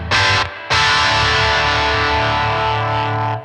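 A distorted electric guitar chord on full humbucker pickup rings out thick and loud, briefly stopped and then struck again, sustaining with a full, heavy tone.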